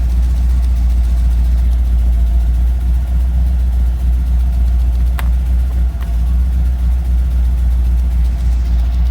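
The engine of a car nicknamed the Bumblebee car idles at operating temperature on about half choke, a loud, steady low rumble held close throughout with a couple of faint clicks.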